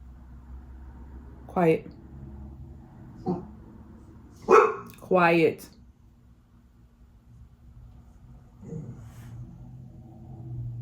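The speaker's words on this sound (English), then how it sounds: "Is it just my dog that has to have the last word? Because he's still going." A dog barks in a home: several loud separate barks, two coming close together, with pauses between them over a low background hum.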